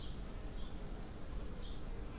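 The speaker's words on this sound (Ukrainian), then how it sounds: "Бджола, бачите, неспокійна" A dense, continuous buzz of many agitated honeybees around a hive being assembled for winter fills the whole stretch, close and steady with no pauses.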